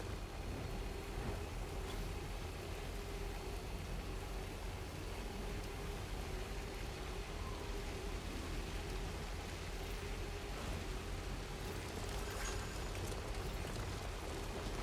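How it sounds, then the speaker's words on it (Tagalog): Heavy rain in Death Stranding, a steady, dense hiss of falling water that stays even and fairly quiet throughout, with faint tonal hums beneath and no talking. "Grabe, lakas ng ulan."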